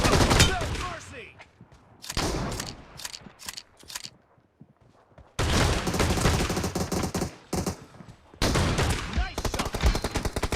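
Rapid shotgun blasts and automatic fire in a team deathmatch video game, loud bursts clustered in volleys with short gaps, some mechanical reload clicks between, a voice briefly heard amid the shooting.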